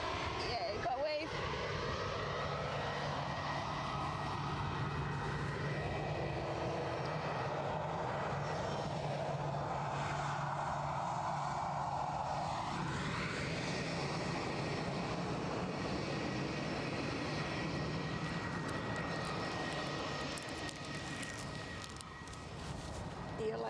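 An EasyJet airliner at Edinburgh Airport rumbles as a steady broadband roar that holds close and loud for most of the span, easing slightly near the end, with people chatting over it.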